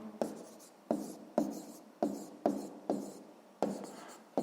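A pen writing an answer on paper in a math exercise, a regular series of about ten short scratchy strokes, each starting with a sharp onset and fading, close and clear.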